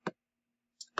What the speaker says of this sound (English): I'm going to click it.